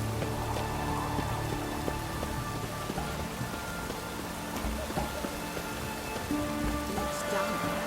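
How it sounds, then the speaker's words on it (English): Steady rain falling in The Witcher III, a constant fine patter on surfaces with occasional heavier drops, fairly loud and even throughout, with no talking. "It's raining."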